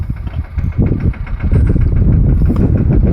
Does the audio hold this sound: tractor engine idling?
yes